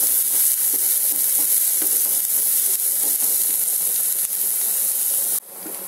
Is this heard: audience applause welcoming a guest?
no